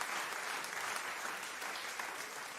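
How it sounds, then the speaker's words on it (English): A round of applause plays quietly and steadily, a dense wash of clapping with no voices over it. "That's another round of applause here for you."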